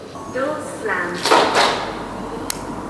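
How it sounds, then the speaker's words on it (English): A door slams somewhere inside an old mill building, a dull thud arriving partway through, under people talking close by. "Door slam."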